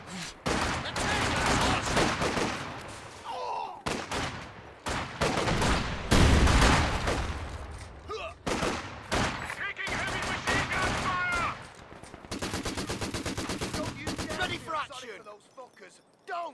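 Bursts of Vickers machine gun fire and other gunshots rattle through a Company of Heroes 2 battle, loud and repeated in rapid strings with short gaps, while a voice talks over the action.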